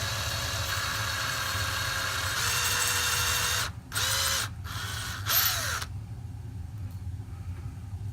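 A power drill bores a hole into a resin model kit statue for magnet installation, a steady whine that rises and cuts out in several short bursts before falling away to quiet room tone.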